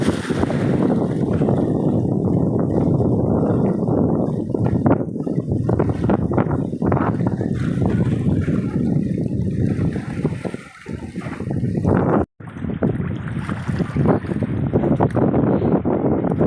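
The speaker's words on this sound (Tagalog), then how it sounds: "Pagkakaalam ko wala nang bagyo, pero sobrang lakas ng hangin." Strong wind buffets the microphone near high-tide water by a bridge, a loud, steady roaring rush with gusty swells for over fifteen seconds, briefly dropping out twice.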